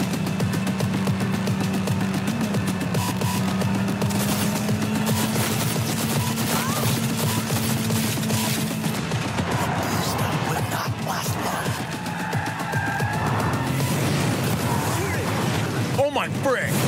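Gunfire in Cyberpunk 2077 rattles in dense bursts almost without a break, sharp shots stacked over a low engine drone, with a voice talking now and then across the whole stretch.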